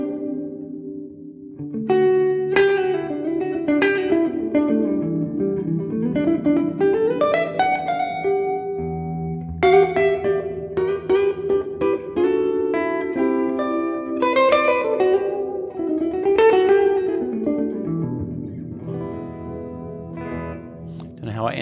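Guitar played through a UAFX compact reverb pedal with all controls turned up, notes and chords blooming into a very long, washy reverb tail that smears each phrase into the next, with no one talking over it.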